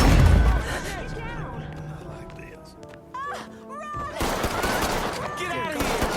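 Gunfire and bursts of shooting in the crime action video game Mafia 3, mixed with loud game music and effects, with shouting voices over the top throughout.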